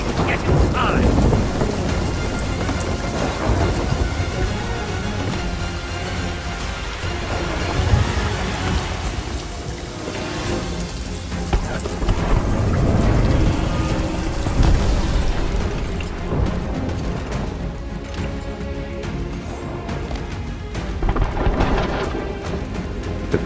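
Rolling thunder from a lightning strike cracking a stone spire in the pirate video game Sea of Thieves' Tall Tales quest, booming loud and continuous under steady heavy rain, with deep rumbles swelling several times.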